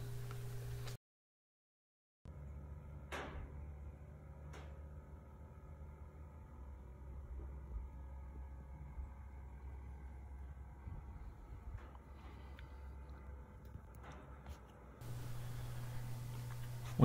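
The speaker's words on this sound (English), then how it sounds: "We installed the motor on the old yard cart so we had a place for it to run." A Briggs & Stratton Raptor 3 race engine, fitted with a custom aluminum intake and a stock Predator carburetor and mounted on an old yard cart, runs with a steady, close droning hum that briefly cuts out near the start.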